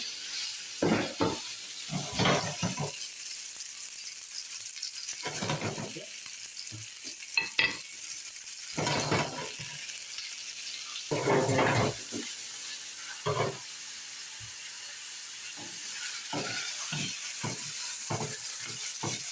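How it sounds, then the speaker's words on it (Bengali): Meat sizzles in hot oil in a pan for an Italian chitarra alla teramana dish, a constant hiss punctuated by bursts of loud crackling and stirring scrapes, close-up with no talk. "অলরেডি তেল এসে গেছে। এখন আমরা মিট বক্সটা দিয়ে দেবো।"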